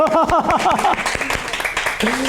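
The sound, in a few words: congregation applause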